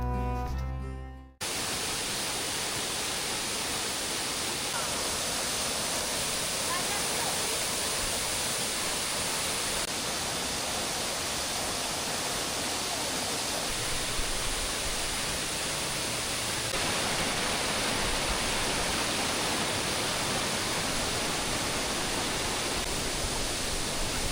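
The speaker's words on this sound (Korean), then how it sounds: "폭포의 수량이 많아서 떨어지는 물줄기가 장관을 연출합니다" Wibong Waterfall in Wanju, swollen after heavy rain, roars as a dense, unbroken rush of falling water, loud and steady, preceded by a brief burst of other sound at the start.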